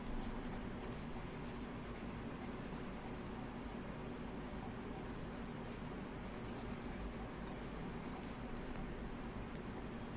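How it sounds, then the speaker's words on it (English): A pencil eraser rubs pencil writing off paper, giving a faint, steady scratchy rubbing close by with no talk. "First, I'll erase this."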